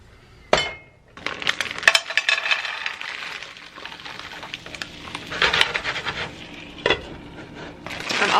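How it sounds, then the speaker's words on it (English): Gnocchi sizzle in a tablespoon of oil in a skillet over medium heat, a steady crackling fry broken by sharp clinks and scrapes of a utensil against the pan. "Heat 1 tablespoon of oil in a skillet on medium heat and then add gnocchi."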